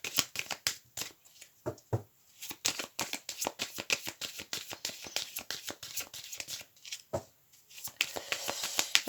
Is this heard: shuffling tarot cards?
yes